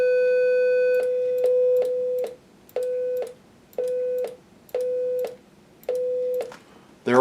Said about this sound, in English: Let's do the sine wave.